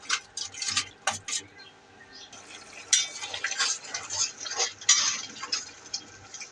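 A spoon scrapes and clatters against a pan while spices cooked with water are stirred, with irregular metallic scraping and soft bubbling in bursts, close and moderately loud, no talk.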